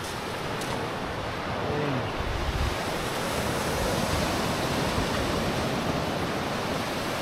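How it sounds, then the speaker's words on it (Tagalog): Ocean waves wash steadily onto the beach at Baler at low tide, a continuous broad roar of surf with some wind, heard alone with no voices. "Ganda ng dagat dito sa Baler ngayon ah."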